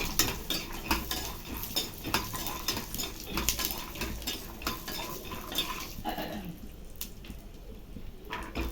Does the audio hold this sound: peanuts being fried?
yes